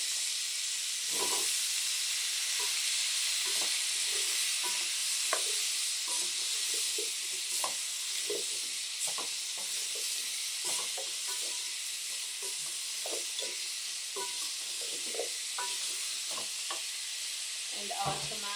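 Potatoes hit a pot of Kenyan-style beef stew and set off a steady, close sizzle with hissing steam that runs throughout, broken by scattered light clicks and knocks from stirring.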